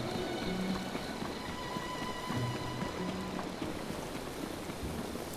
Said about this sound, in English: it looks like it's going to be raining for quite a while